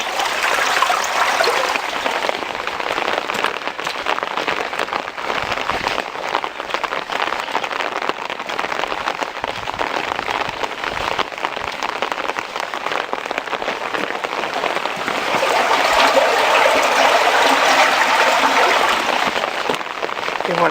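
Swollen river in the Ardèche near Lalevade after heavy rain, running full and fast as a loud, dense, continuous broadband rush of water that holds steady throughout.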